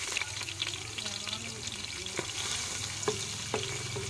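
Chopped onion and garlic fry together in a pan under a constant sizzle, with a few distinct spatula scrapes and clicks as the mixture is stirred, moderately quiet.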